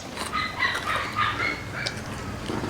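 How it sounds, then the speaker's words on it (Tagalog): The neighbors' dogs bark and yip at a moderate distance, several overlapping high calls scattered across a few seconds over steady outdoor background noise. "Mga dogs ng neighbors."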